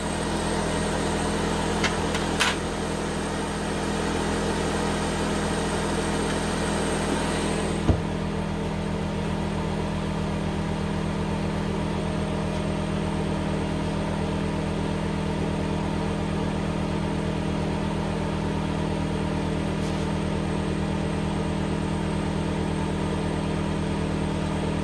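The stock air compressor of a GweikeCloud laser cutter hums steadily throughout, a constant motor drone with a brief click and a small shift in tone early on, no voices.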